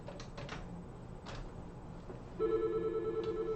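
A desk phone on a VoIP extension rings, its network built on pfSense, a Raspberry Pi and an 8-port Netgear switch. After quiet background hiss, a steady electronic ring starts and continues unbroken to the end.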